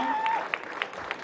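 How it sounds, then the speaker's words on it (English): Applause for a fighter at a boxing weigh-in, a thin burst of scattered clapping from a crowd that thins out over about a second, with a brief tone over the top. "a round of applause for Salman Hamada"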